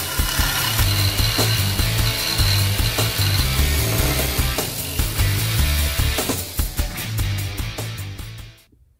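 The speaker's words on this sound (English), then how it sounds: "So I went and picked up this carbide tip jigsaw blade" A jigsaw fitted with a carbide-tipped blade cuts through an X-ray film, giving a loud, rapid chattering rasp with a rhythmic mechanical clatter that continues for most of the span before cutting off.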